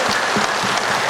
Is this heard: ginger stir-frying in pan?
no